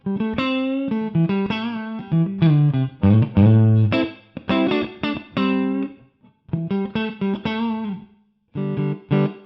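A crunchy, distorted electric guitar through a TONEX amp modeler pedal, with no noise gate, compression or reverb, plays a run of notes and ringing chords with short pauses between phrases, close and without any voices.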